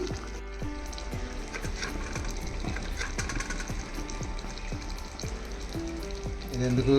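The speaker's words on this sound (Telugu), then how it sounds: "ఆల్రెడీ మేము స్టవ్ వెలిగించేసాము చూడండి మంచిగా ఉడకడం స్టార్ట్ అయ్యింది" Mutton curry bubbling in a clay pot on a lit stove, a steady close sizzle and simmer with repeated soft knocks and stirring scrapes throughout, growing slightly louder at the end.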